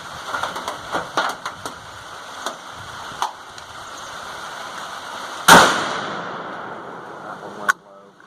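.450 Bushmaster rifle fires a 200gr FTX handload loaded with Hodgdon H110, one sharp loud shot cracking out mid-clip and ringing briefly, among scattered fainter clicks and knocks before and a smaller snap afterward.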